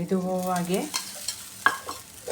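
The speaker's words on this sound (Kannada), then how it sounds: "ಮೇಲೊಂದು ಸ್ವಲ್ಪ ಎಣ್ಣೆ ಹಾಕ್ಕೊಂಡು ಹೀಗೆ ಬೇಯಿಸ್ಕೊಂಡು ಬಿಡಬೇಕು" A sorakkai akki roti cooks in a pan with a little oil, giving a faint, soft sizzle with light scraping and a brief tonal squeak at the start.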